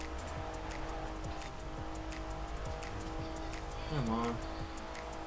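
Race cars, an Audi and a Lamborghini Huracan, roar through laps of a racing video game, their engines droning steadily with a brief rising rev or tire squeal near the end, while a person talks over the top.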